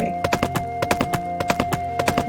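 Horse hooves clip-clop steadily in a pony-riding video game, a quick, even run of hollow knocks over a faint background music tone, with no talk.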